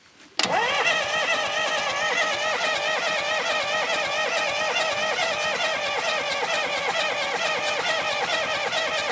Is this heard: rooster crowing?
no